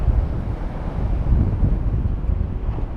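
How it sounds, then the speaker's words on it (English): Waves roll up a beach and break, with surf in the background, heard as a steady low rushing wash muddied by heavy wind buffeting the microphone, no voices. "what I'm waiting for is a wave to come rolling up the beach, whilst at the same time the waves in the background break"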